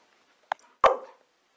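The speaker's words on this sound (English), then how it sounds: "Why are you barking at me?" A dog gives two short barks nearby, a soft quick one followed by a louder, fuller bark, with silence around them.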